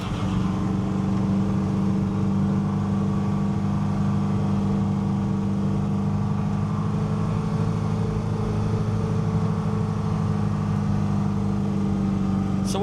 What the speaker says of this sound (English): 32 Ford hot rod.